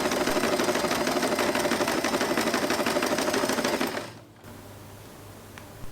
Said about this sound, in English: Sew this for the last time